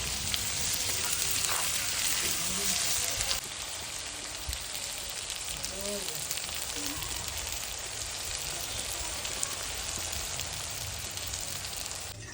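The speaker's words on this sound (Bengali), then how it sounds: "বেরেস্তাটা ভেজে নিই" Sliced onions fry in hot oil for beresta, the crisp fried onion for a goat-meat biryani, giving a steady, loud, close sizzle that runs unbroken throughout with a few soft stirring knocks.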